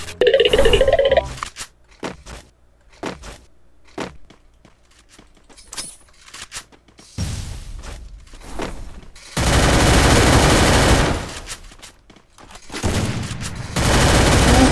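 Bursts of gunfire in a mobile shooter video game played on a Samsung A54, loud volleys at the start and again in long heavy stretches later, with quieter scattered footsteps and clicks between.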